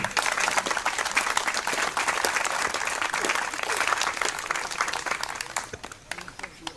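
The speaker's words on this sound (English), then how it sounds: "a big round of applause for Lee." Steady applause from an audience at a carillon bell tower and park re-introduction ceremony, sustained for several seconds before thinning out near the end.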